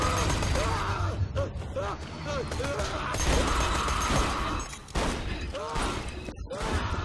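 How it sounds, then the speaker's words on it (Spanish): Gunfire in the video game Borderlands 2, with dense bursts of shots and battle effects packed together over the whole stretch, loud and steady under a busy game mix. "me están disparando desde atrás y no me gusta"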